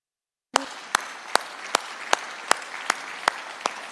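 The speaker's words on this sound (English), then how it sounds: "Give it a big round of Shakespeare applause." An audience at a Jamaican AI lab signing ceremony claps in slow, steady unison, about nine sharp, evenly spaced claps over a faint background murmur.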